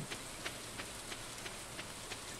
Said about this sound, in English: This rain saved us having to do the watering